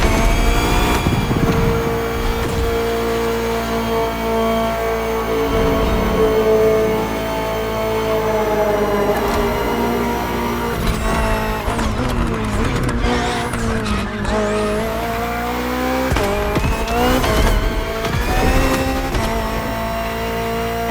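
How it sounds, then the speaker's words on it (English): A 2023 BMW M Hybrid V8 endurance race car driving in The Crew Motorfest, engine droning loud with revs climbing and dropping through shifts, tires skidding and squealing in the middle stretch, no voices. "the BMW M Hybrid V8. What a beast."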